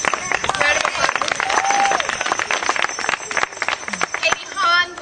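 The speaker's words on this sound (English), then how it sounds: "Round of applause." Applause from a crowd at a celebrant graduation ceremony, many hands clapping densely with some cheering, loud and close, with voices talking over it.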